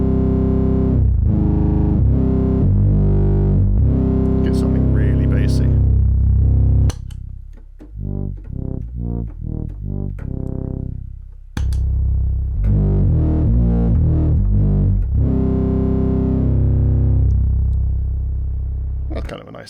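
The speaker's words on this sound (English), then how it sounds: "And add some frequency dependent clipping" Roland SH2000 synthesizer run through frequency dependent clipping distortion, a loud, gritty, fuzzed tone playing sustained phrases with a stretch of short choppy repeated notes in the middle.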